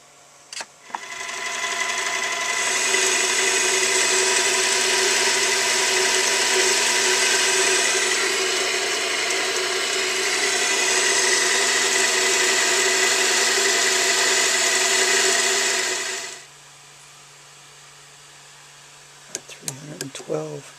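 A lathe turns down a spindle column to 313 thousandths, cutting for about fourteen seconds with a loud, steady whine and a harmonic hum before spinning down to a quieter idle, with a few clicks at the end.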